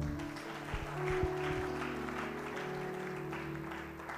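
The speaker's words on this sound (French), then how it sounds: "Acclamez pour vous-même." Audience at a women's church gathering applauding themselves, a dense, sustained patter of clapping that swells slightly midway, with low musical tones sustained underneath.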